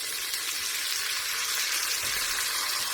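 Butter sizzles and hisses in a pan with cooked bacon, a steady, dense frying crackle that holds evenly throughout with no voices.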